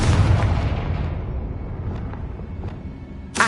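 A Confringo spell explodes in the video game Hogwarts Legacy with a loud, booming burst that rumbles and fades over a few seconds before a second sharp blast at the end.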